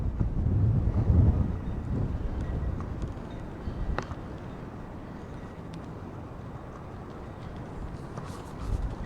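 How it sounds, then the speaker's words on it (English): Steady rushing wind buffets the microphone, a low rumbling roar throughout with a few faint knocks, no voices. "it is really windy"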